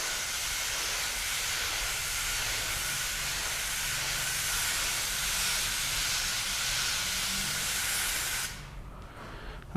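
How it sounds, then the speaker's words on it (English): A spray bottle misting water over waxed car panels makes a steady, close hiss of fine spray that runs for several seconds and then cuts off abruptly. "I'm still going to mist over the entire panel"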